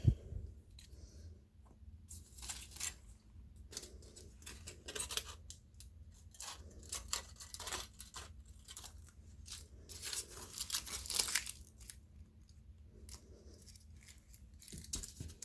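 Scissors snip through paper card for a handmade Father's Day card in a quiet room, with repeated close, crisp cuts and paper rustling in uneven bursts.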